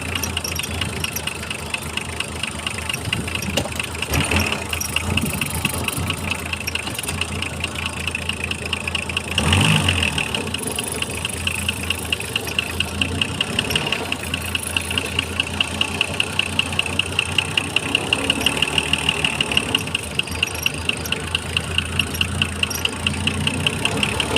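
A six-cylinder engine idling steadily, a constant close rumble with a regular rhythmic knock and a faint whine, lasting throughout with little change.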